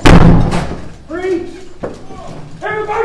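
Police forcing entry to a flat door during an immigration raid: a heavy slamming impact opens the clip, followed by loud shouted voices and further thuds, close and harsh.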